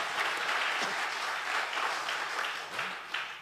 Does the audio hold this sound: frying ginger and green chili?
no